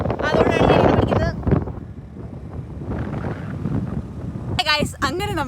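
Strong gusting wind at the Ramakkalmedu hilltop, buffeting the microphone with loud rushing bursts under a person talking at the start and end.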